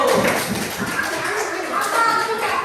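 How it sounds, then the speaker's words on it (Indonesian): Children in a primary school classroom clap together for a group after a math activity, a quick busy patter of small hands with kids' voices mixed in, close and fairly loud. "Kita kasih tepuk tangan dulu untuk kelompok 1."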